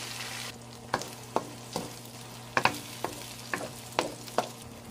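Bitter gourd (ampalaya) pieces stirred in a pan with seasoning cubes, powder and salt, a soft sizzle under repeated sharp scrapes and clacks of the utensil at an uneven rhythm, close and alone.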